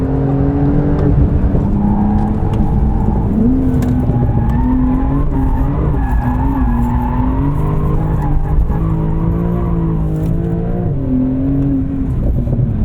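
A Porsche 911 Turbo S drifts with a continuous loud engine note rising and falling through revs, tires squealing in sustained high wails through most of the stretch.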